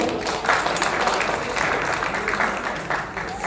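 An audience at a creator event in Medinipur claps hands, a dense continuous burst of applause filling the space at fairly close range for the whole stretch.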